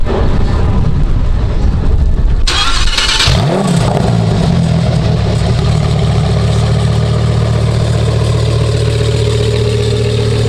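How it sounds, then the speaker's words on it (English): A Lamborghini Huracan EVO with an aftermarket exhaust fires up loudly from a somewhat cold start with a sharp blip of revs, then settles into a deep, burbling idle that holds steady and close. "Best sounding exhaust that I think I've heard for the Huracan."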